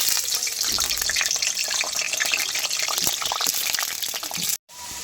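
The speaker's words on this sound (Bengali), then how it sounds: "তেল গরম হয়ে গিয়েছে এখন আলুটা ভেজে নেব" Potatoes fry in hot oil in a kadai, a dense, loud, close hiss like rushing water that runs steadily before stopping briefly near the end.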